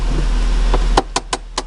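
A Tata Nano GenX XT car engine idles briefly, then cuts off with a click, followed by a few sharp mechanical clicks in the quiet.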